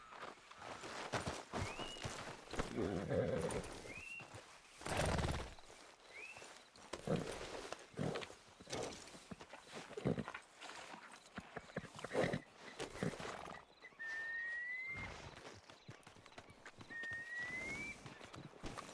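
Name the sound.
horse galloping in the video game Red Dead Redemption 2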